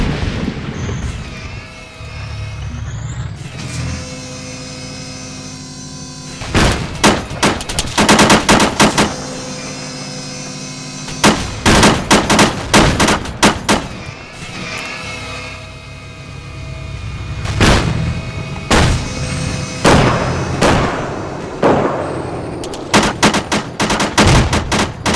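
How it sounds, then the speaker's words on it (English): Artillery and gunfire in the military shooter Arma 3: long stretches of loud rapid automatic bursts and heavy booms, arriving in clustered volleys with short quieter gaps of rumbling battle between them. "Let's fire off this artillery while we still have a chance to fire it."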